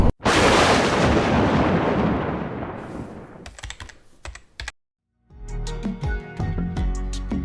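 Thunder in a thunderstorm rolls overhead in one long, loud rumble that fades, followed after a brief silence by sharper crackling bursts and close cracks.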